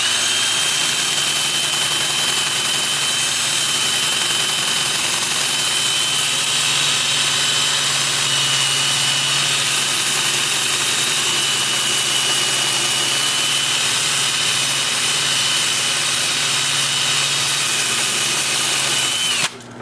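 A lathe spins in reverse with a steady high whine while 180-grit sandpaper hisses against the turning wood, continuous and close, cutting off abruptly at the end.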